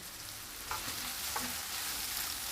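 Chopped onions and peppers fry and sizzle steadily in a pan with a pinch of salt, a dense close hiss with a couple of brief stirring clatters.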